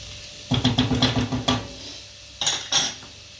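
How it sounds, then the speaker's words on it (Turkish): Peas tumble into a cooking pot with a quick run of clattering metallic clinks and scrapes, then two sharper knocks after a short pause, close and fairly loud with no voices. "Haşlamış olduğum bezelyeleri ilave ediyorum şimdi."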